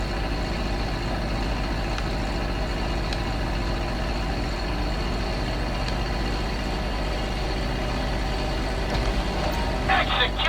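An aircraft engine in the video game GTA 5 drones steadily and low while the plane comes in to land on a runway, a constant, unchanging hum with a voice talking over it.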